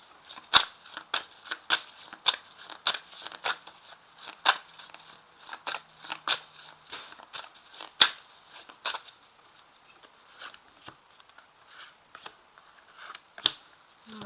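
Petit Lenormand cards being shuffled and laid out on a table for a reading: a long run of crisp, close papery snaps and flicks, irregular but frequent, each sharp and brief, with no talking.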